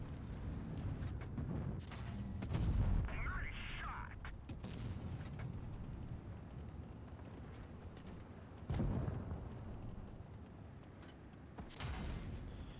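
Tank guns fire in a video game battle involving an E100, heavy booming shots landing a few seconds apart, with rumbling impacts and mechanical clanks between them.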